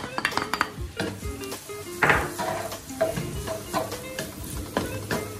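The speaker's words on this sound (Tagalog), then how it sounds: "Hintayin muna nating mag-slightly brown yung ating bawang." Garlic frying in hot oil in a pan for a Kapampangan asado dish, with a steady soft sizzle beneath repeated clinks and scrapes of a utensil against the pan.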